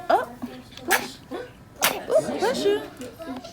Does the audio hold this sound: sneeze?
yes